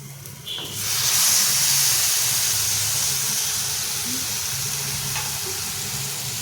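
Eggplant dropped into a hot pan of cooked spices bursts into a loud, steady hiss and sizzle that holds close and continuous, with no talking.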